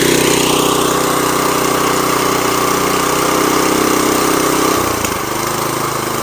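Small lawn mower engine running steadily at idle after a pull start with the choke set, a loud, continuous mechanical drone that shifts pitch briefly near the end.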